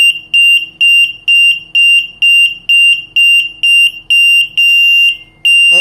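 A GA01P GSM alarm system siren sounds loudly during an input test, giving a fast run of about ten evenly spaced high-pitched beeps that merge into a longer continuous tone near the end.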